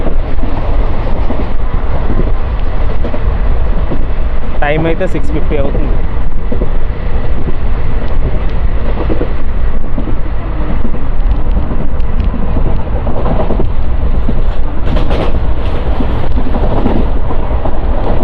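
The Palnadu Superfast Express, train 12747 running from Guntur to Vikarabad on its last run with ICF coaches, gives a steady loud rumble with wind buffeting throughout, while someone talks over it.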